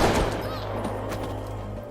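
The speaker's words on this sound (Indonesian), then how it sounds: "ia ditembak oleh pasukan terlatih dan tewas saat itu juga" Gunfire from a violent heist film, a burst of sharp shots and thuds at the start trailing into a noisy, rumbling soundtrack with dialogue-like sound mixed underneath.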